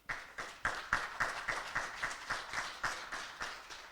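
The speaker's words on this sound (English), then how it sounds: "Can we please give her a round of applause?" Applause from a crowd, steady clapping with rhythmic bursts throughout, moderately loud and without speech.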